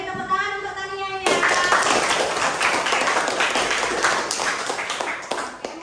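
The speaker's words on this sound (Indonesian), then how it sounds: "Beri tepuk tangan untuk Tania ya." Classmates clap for a student in a classroom, a burst of applause breaking in after a brief spoken line and continuing steadily, fairly close, with some voices mixed in.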